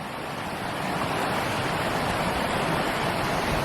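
A waterfall on Bowen Run along the West Rim Trail in the Pennsylvania Grand Canyon pours in a steady, dense rushing roar close by, with no voices.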